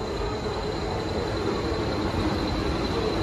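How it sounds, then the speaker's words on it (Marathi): A train approaching and pulling into a station platform gives a steady, loud rumble with low mechanical roar and a faint high whine, continuous throughout with no talk. "ट्रेन आली"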